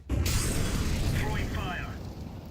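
A grenade detonates in Counter-Strike 2 with a sudden loud blast and a rumbling, crackling tail that slowly fades, while a voice speaks briefly over the decay.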